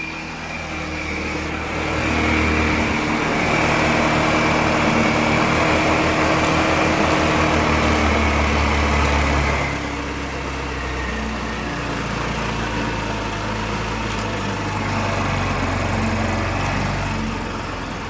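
A GY6 scooter engine idles steadily and loudly up close after carburetor adjustment, its rough buzzing drone holding for the whole stretch with slight swells in level.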